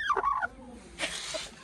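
A bantam chicken gives a short, close clucking call, followed by a quieter rustle, with no talking.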